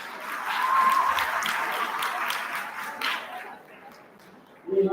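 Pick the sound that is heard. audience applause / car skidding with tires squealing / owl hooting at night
audience applause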